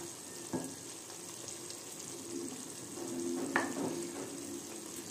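Prawn curry with coconut, crushed garlic and coriander powder frying in oil, a quiet, steady simmering sizzle with a couple of soft knocks of a spoon against the pot.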